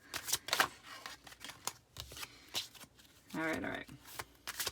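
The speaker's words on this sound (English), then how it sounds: "I think I just can't shuffle today." Tarot cards are shuffled in several quick riffling bursts with soft slaps in between, close up, and a voice speaks briefly between them.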